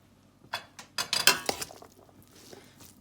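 A spoon clinks and scrapes against a pan while vegetable fried rice with green onion is mixed, making a short burst of close, bright metallic taps that fade into softer stirring.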